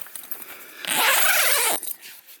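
A tent zipper is pulled open in one quick, loud, raspy sweep lasting about a second, close by, with faint rustling around it.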